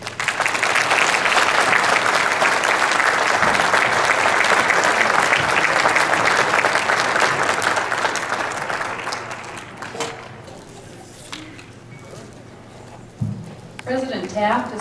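Sustained, dense applause from an evening audience honoring the speaker, a steady roar of clapping for about ten seconds that then thins out and fades to scattered claps and room noise.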